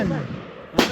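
A single sharp report from a Rock Island Armory TM22 .22 rifle at a shooting range cracks near the end, close and loud, after a stretch of low, muffled background sound.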